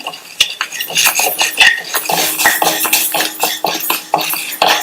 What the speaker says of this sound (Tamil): அதுல எடுத்து வச்ச பாசிப்பருப்பை சேர்த்துட்டு மிதமான தீயில வச்சு லைட்டா அதனுடைய கலர் மாதிரி வாசனை வர வரையும் வறுத்துக்கணும்.